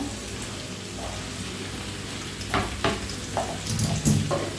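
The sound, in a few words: vegetable pieces added to pan for aviyal, stirring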